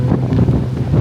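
Strong gusty wind buffets the microphone at an outdoor rally stage, a loud, continuous roaring rush that fills the whole moment without any voices.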